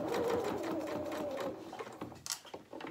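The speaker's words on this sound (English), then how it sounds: "so this is called stay stitching it's just going to hold that together for us in the right place" A domestic sewing machine stay-stitching fabric runs with a fast, steady mechanical whir for about two seconds, then slows and stops with a few soft clicks, close up.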